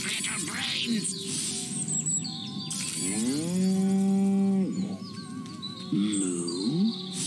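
A cow moos in long, drawn-out low calls, one clear moo in the middle and a shorter one near the end, with birds chirping around it.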